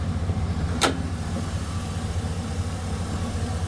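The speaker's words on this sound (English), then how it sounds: "We'll finish it off now, man, with the video of the engine while it's running." A Chevy 2500 LT two-wheel-drive truck with a Vortec engine idles close up, a steady low rumbling purr with one short sharp click near the start.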